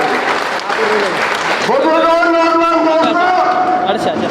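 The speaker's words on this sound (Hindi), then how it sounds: "जोरदार तालियों से स्वागत, जोरदार तालियों से" A crowd at a political gathering in Bhiwani claps steadily to welcome Abhay Singh Chautala, while a loud voice over a loudspeaker talks on top of the applause for most of the clip.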